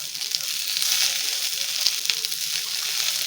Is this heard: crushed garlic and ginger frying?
yes